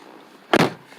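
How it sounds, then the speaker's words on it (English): A BMW 740iL long-body sedan door shuts with one solid, close thump and a brief latch click, loud against a quiet cabin background. "when you close the door"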